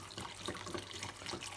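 Hot boiled milk poured onto a whisked egg yolk and sugar mixture for crème caramel, a steady liquid pouring stream lasting throughout, close and fairly quiet with no talk.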